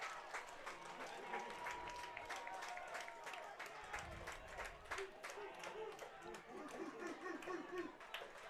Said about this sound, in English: The crowd coming to their feet here at the ballpark